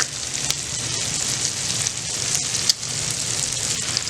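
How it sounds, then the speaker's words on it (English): Steak cooks in bubbling butter in a pan, giving a dense, continuous close sizzle and crackle with a few sharper pops, loud and steady across the short span with no voices. "A good way to cook your steak is you kind of want to like get that butter to bubble up"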